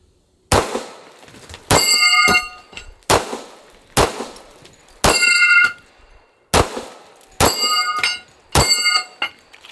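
Pistol shots from a 1911 ring off a steel Texas Star target: sharp gunshots each followed by a bright metallic clang, about eight hits spaced unevenly over several seconds, loud and close with ringing decay.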